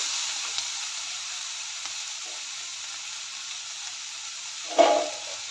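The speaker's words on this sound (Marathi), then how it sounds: "अजून एक दोन मिनटं भाजून घेऊया" Sesame seeds, peanuts, garlic, ginger and cumin dry-roast in a pan for a ridge gourd chutney, giving a soft, steady hiss near the microphone with one brief scrape of stirring near the end and no talk.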